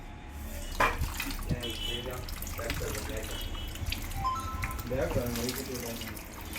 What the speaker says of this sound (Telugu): చూడండి ఫోన్లో వాటర్ పోస్తున్నా ఫోన్ పైన